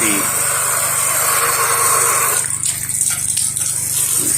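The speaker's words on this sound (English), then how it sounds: "sorry about that little splash on the camera" Water from a pressure washer sprays and splashes right against the camera during exterior house cleaning, a loud steady gush over a running engine drone, breaking up into spattering droplets toward the end.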